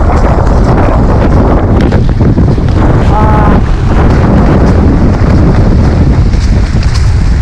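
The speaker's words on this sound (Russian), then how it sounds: "Нормальный дождик, нормальный ветер." Loud, constant wind with light rain roars and buffets the microphone close up at the seashore in Psezuapse, a dense blustery rush with no clear drops of rain standing out.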